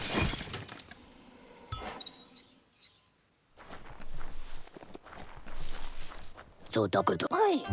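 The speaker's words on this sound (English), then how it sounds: "You shouldn't worry about smashing up the box" Wooden box smashed apart in the video game Biomutant, a sharp breaking crash up front followed by scattered clattering and footsteps, with a voice speaking over the later moments.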